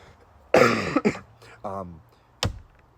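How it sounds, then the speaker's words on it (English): A man coughs hard several times, lingering from three days of illness: a loud rough burst, a couple of shorter hacks, then one sharp cough after a pause, close up. "This is still a lingering cough from being sick for 3 days"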